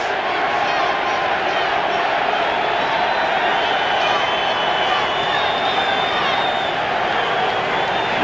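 A sellout crowd of Eagles fans at Veterans Stadium roars steadily during a Giants–Eagles football game, a dense, sustained wall of cheering beneath close play-by-play talk.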